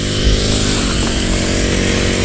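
A grass cutter runs continuously among cucumber plants in a vegetable garden beside a calamansi farm, its engine a steady, loud, close buzz with dense harmonics that holds without a break for the whole span, with no voices heard.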